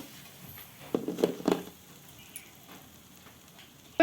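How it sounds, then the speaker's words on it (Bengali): Small semolina boondi drops for motichoor laddu fry in hot oil, giving quiet crackling sizzles with a couple of louder bursts in the first half before settling into a faint, low fizz. "বন্ধুরা আমি সমস্ত বড়াগুলো ভেজে নেব এরকম ছোট ছোট করে"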